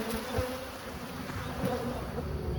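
A swarm of honey bees buzzes steadily and close by, a continuous droning hum with no pauses.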